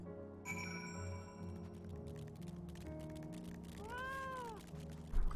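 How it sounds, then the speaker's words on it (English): A fat cat mount meows in the video game Final Fantasy XIV, a single clear, bending meow near the end amid soft game music and chimes. "Someone with a fat cat mount."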